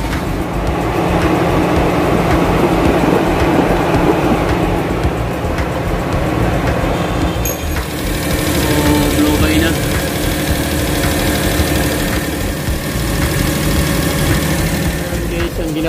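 A Suzuki Multicab K6A engine idles steadily at close range, a continuous rough mechanical drone with a shift in tone partway through and faint background noise.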